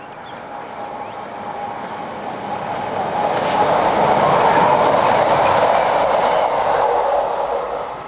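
Class 628 diesel unit train on the Außenring, passing close with a rising and then fading rail roar and some clickety-clack from the wheels.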